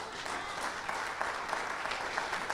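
Congregation in a church applauding steadily throughout, a dense wash of many hands clapping with no break and no speech over it.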